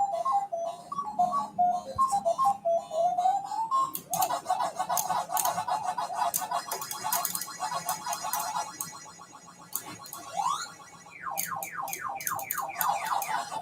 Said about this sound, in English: There's the wonderful sound when you hit the credits.